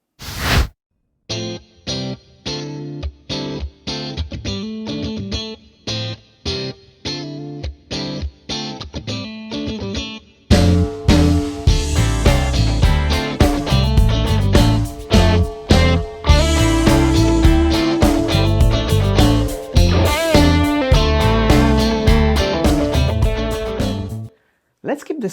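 Electric guitar played through a Tone King amp model with matching cab, delay and reverb. Sparse clean notes open, then a full, driven passage rings on with lingering echoes.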